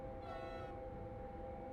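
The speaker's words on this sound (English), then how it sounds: "we've got 3 tones of horn on this train" A Vectron electric locomotive's horn in Train Simulator Classic, hauling a K-train from Mürzzuschlag to Semmering, sounds one sustained, steady tone at moderate level over a constant low rumble, then trails off into the running noise.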